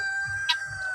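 A very large native village (gavran) rooster crows nearby, a brief sustained tonal call with a sharp accent partway through, heard alone without talk.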